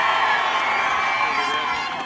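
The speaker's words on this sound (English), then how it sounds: "Wow, what a crowd." An outdoor political rally crowd cheers and shouts in a continuous, dense roar that stays loud and steady throughout, with no single voice standing out.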